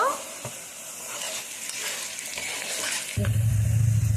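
Green chillies drop into a hot pan for a chilli chicken dish, giving a soft hiss and light stirring before a louder, fuller sizzle bursts up near the end.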